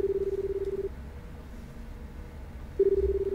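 Steady ringing tone from a phone in the video game Paper Lily, two sustained pulsing bursts separated by a pause, clear and close with no speech.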